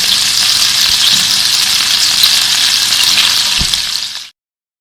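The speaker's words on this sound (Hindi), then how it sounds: "3 मिनट हो गए हैं, इसको दूसरी साइड पर भी फ्राई करते हुए।" Beef gola kababs fry on their second side in hot oil, a loud, dense, steady sizzle close up with a couple of faint low knocks, before the sound cuts off abruptly.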